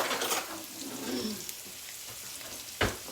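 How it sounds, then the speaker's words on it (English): Strips of steak for fajitas sizzle and fry in a hot pan, a steady close hiss broken by a brief clatter of stirring and one sharp knock near the end. "I do not want to cook this steak well done."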